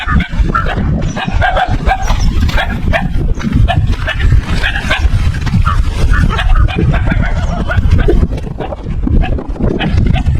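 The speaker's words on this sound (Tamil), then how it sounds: "எத்தனை நாய் இருக்கு பாருங்க" Native village dogs bark over one another continuously, several animals at once, loud and close, in a dense overlapping chorus with no pause.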